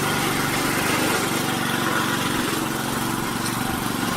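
A Hahn Eclipse 22-inch self-propelled lawn mower runs steadily nearby, its small engine giving a loud, constant buzzing drone with no pauses and no voices.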